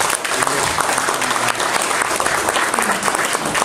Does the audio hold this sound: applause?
yes